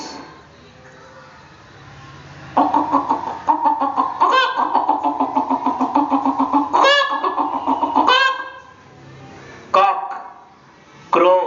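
A rooster crows loudly and close by, one long drawn-out call with a few shorter crowing bursts after it, with no talk over it.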